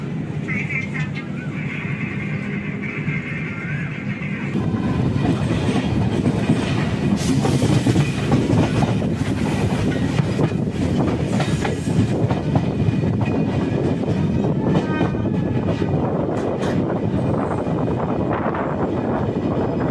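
Kongu Superfast Express passenger train running on rails between Coimbatore and H. Nizamuddin, with steady loud rumble and rhythmic wheel clatter throughout, growing louder after the first few seconds, with voices faintly present underneath.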